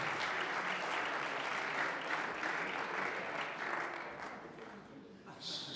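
A squash crowd at the Windy City Open 2022 claps steadily after a men's second-round match, a dense, sustained applause that gradually thins, with a commentator's voice talking over it.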